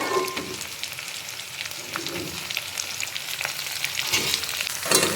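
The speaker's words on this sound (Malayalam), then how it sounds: "അപ്പോൾ ഇതിലേക്ക് നമ്മുടെ കയ്പക്ക ഇടുന്നുണ്ട്." Sliced bitter gourd hisses in hot oil with dried red chillies for a buttermilk curry, a dense, steady sizzle close by with a few stirring knocks and spatters.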